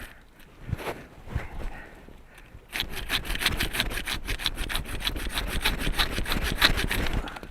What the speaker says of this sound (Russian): вот сначала веточку тоненькую отпилим